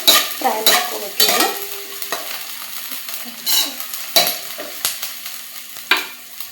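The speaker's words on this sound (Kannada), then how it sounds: "ಈಗ ಉಳ್ಳಾಗಡ್ಡಿ ಫ್ರೈ ಆಗೈತಿ" Sliced onions sizzle steadily in a hot pan while a utensil stirs them, giving repeated close scraping strokes over the continuous frying hiss, with no voices.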